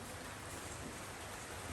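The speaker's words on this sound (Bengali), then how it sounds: "এই যে বৃষ্টি শুরু হয়ে গেল" Rain begins falling in a rural village beside a clay stove, a faint, even hiss of drops that holds steady throughout.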